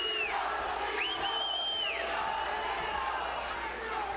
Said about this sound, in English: Crowd alive and well here in the Grand Ballroom at the Bonaventure